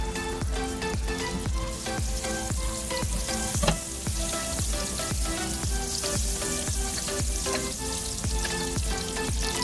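Butter sizzling loudly and continuously in the pan used for a beef stir-fry, a dense, crackling fry with rapid popping, steady and close with no talk.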